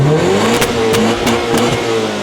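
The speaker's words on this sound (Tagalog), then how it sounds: "kahit naka full exhaust siya, maririnig mo na hindi siya ganun kaingay kasi TRD siya. So medyo bassy lang talaga siya." A car fitted with a TRD full exhaust revs repeatedly during a sound check, a deep, bassy engine note rising and falling in several close, loud blips with no talking.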